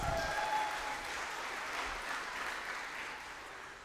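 An eighth grade graduation audience applauds steadily, a dense even patter of many hands at moderate distance that tapers slightly near the end.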